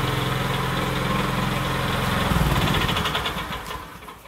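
A WEIMA petrol walk-behind tractor engine running steadily close by, then switched off, its putter fading and sputtering to a stop over the last couple of seconds.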